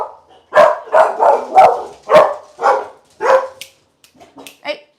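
Several dogs bark at a fruit and vegetable delivery, sounding a rapid series of loud, close barks followed by softer yips and whimpers.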